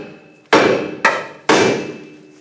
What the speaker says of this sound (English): hit the knuckle right here and it should pop off